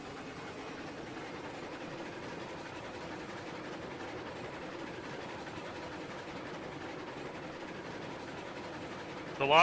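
Train running in the Railroads Online video game, a steady low rumble with faint rail clatter throughout, ending in a short louder burst.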